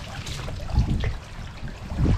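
Water dripping and trickling from an oyster cage just pulled up from the water in Florida, a continuous soft patter and splash, fairly close.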